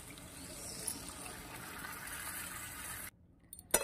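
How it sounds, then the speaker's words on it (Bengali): A bowl of water pours into a pan of cauliflower and prawn curry, a soft, steady splashing gush lasting about three seconds before stopping abruptly, followed by a faint clink. "দিয়ে দিচ্ছি 1 বাটি জল।"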